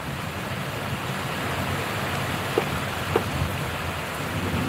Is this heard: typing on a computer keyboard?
no